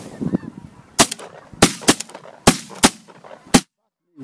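Geese honk as a flock passes overhead during an autumn hunt, while about six or seven loud, sharp shotgun blasts ring out in quick irregular succession. The honking carries faintly underneath, and the shots end abruptly in silence.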